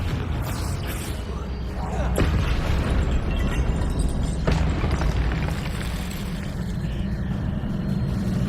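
Confringo blasting spell cast in a Harry Potter video game, two sharp blasts a couple of seconds apart over a steady, heavy, rumbling background, loud and close.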